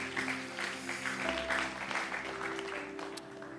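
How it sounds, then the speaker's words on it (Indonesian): A church congregation claps during worship, a moderate, fairly distant patter of many hands set over sustained keyboard chords and low bass tones, with no voice on top. "Berikan tepuk tangan kita untuk Tuhan kita"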